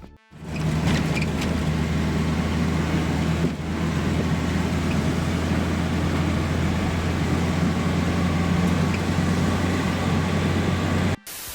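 A ZAZ Slavuta car drives along with a steady, loud engine drone and road rumble that runs continuously from start to finish, with a brief thump partway through.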